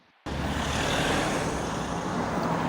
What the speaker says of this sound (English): We've got cars passing by me.